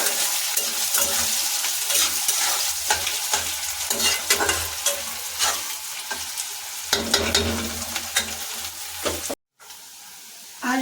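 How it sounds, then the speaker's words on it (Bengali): Bitter gourd frying in a pan makes a loud, continuous sizzle, with repeated scraping and stirring strokes throughout and a brief drop to silence near the end. "উচ্ছেটাকে ভাজা ভাজা করে তারপরে এগুলো ঢাললাম"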